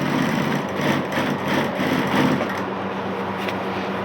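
Sewing machine stitching a bottom band on fabric, a steady close motor whir with rapid needle chatter running without pause for several seconds.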